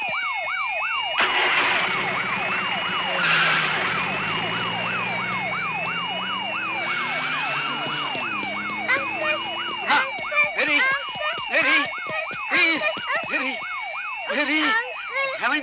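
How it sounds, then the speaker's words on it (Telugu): A wailing police siren rises and falls in quick repeated sweeps, loud and close at first and then mixed with other sirens and vehicle noise, with people talking over it toward the end. "ఇంతసేపు పోలీస్ సైరన్"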